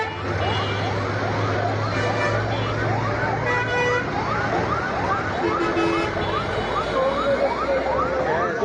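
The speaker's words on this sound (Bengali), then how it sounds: "ইতিমধ্যে ফায়ার সার্ভিসও গাড়ি এসে পড়েছে এখানে দেখতে পাচ্ছেন আপনারা" Fire service vehicles arrive with a wailing siren sweeping up and down at steady volume, heard near a blaze in a main-road underpass caused by a gas leak. Traffic rumble and voices talk under the siren throughout.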